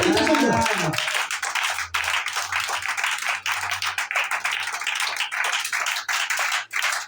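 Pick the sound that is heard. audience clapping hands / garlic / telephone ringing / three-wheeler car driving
audience clapping hands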